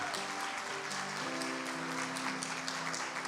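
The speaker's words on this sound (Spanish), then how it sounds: "Entonces denle un aplauso poderoso al Señor." Church congregation applauding during a Spanish-language family service: a steady, moderately distant wash of clapping with sustained tones from music or voices running beneath it, even in level from start to finish.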